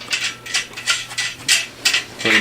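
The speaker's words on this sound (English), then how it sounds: "They're going to use, I believe, a 9/16 wrench." A 9/16 wrench loosening bolts makes a quick series of about seven rhythmic ratcheting clicks, close and fairly crisp, with no talking.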